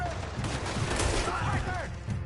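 Gunfire rattles in Red Dead Redemption, a quick volley of shots packed into about two seconds, with a voice shouting over the shooting.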